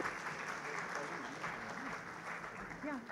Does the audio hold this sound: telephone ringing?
no